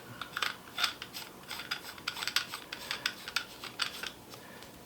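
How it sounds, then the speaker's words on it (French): A reversing ring is screwed onto the filter thread at the front of a camera lens, giving faint, quick metallic clicks and scrapes in an irregular rhythm. "On vient visser la bague à l'avant de l'objectif."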